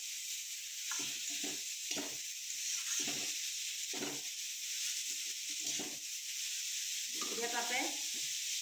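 Radish with turmeric, salt and green chilies is stirred in a hot frying pan for a fish head radish fry, with soft scraping strokes in uneven bursts over a steady background sizzle.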